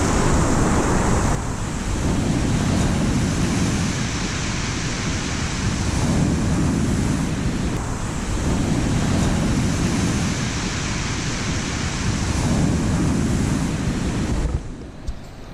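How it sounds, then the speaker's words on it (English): Choppy sea swell breaking on a surf beach near high tide, a steady loud roar of surf with rolling surges of waves and wind buffeting the microphone, no voices. "there's a little bit of swelling here, a little bit choppy."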